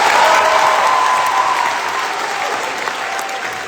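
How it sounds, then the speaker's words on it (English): An audience gives a band a round of applause at a live finals event, a thick steady roar of clapping that stays loud and gradually eases off. "One more round of applause for these guys."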